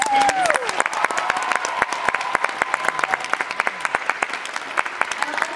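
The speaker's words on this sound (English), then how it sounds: "Can we just get an extra round of applause for all the contestants?" A pageant audience at the 2017 Miss Junior British Columbia event claps for the contestants in a brisk, sustained round of applause. The sharp, scattered hand claps stay close and even, with a faint tonal sound fading out at the very start.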